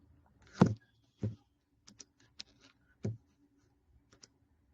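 A computer mouse clicks at close range, a handful of sparse, irregular, quiet clicks separated by near silence.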